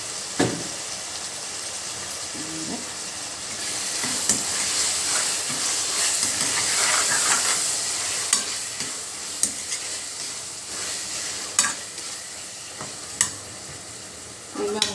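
Tomatoes with turmeric and salt cooking down in a pan produce a continuous close sizzle and hiss, with a spoon scraping and tapping against the pan at intervals.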